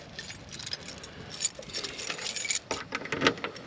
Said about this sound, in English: if I get my keys out here